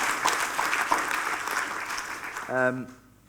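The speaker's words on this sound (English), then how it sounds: "Yeah, let's clap." A gathered group claps together for a few seconds, the applause fading as a voice begins speaking near the end.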